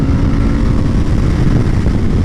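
An Indian FTR 1200 motorcycle riding on a road, its engine a steady, loud, close rumble with constant wind noise throughout, no speech.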